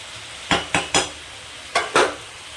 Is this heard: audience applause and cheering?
no